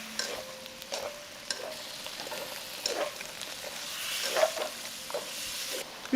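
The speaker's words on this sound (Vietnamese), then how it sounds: "mình cho tôm và mực vào xào trên lửa lớn và mình xào nhanh tay nha" Shrimp and squid stir-fried fast over high heat in garlic, giving a steady close sizzle broken by scraping, clattering strokes of the utensil against the pan.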